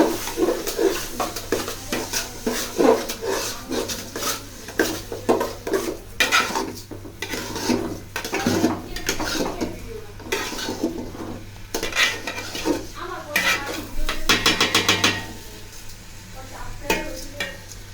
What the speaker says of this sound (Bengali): তো এখানে আমি তেলটা গরম হওয়ার পর পোলাও চালগুলো দিয়ে এখন এগুলো নেড়ে নিব।